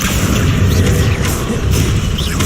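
A loud, booming blast from the Confringo explosion spell in Hogwarts Legacy, a dense rumbling burst with crackling debris that carries through the whole moment, with faint whooshing spell sounds above.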